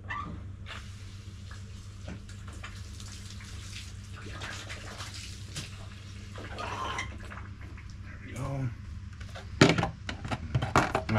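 Water running and splashing in a quick rinse before an ice bath, a steady close wash under the flow with louder splashes near the end.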